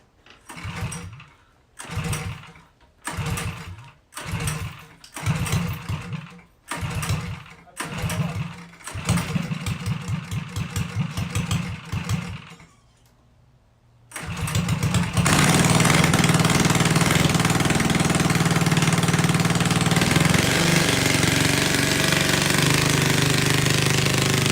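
A go kart engine with the choke on is pulled over in a series of rhythmic bursts, sputters briefly, then catches and runs loud and steady, close by for the last ten seconds.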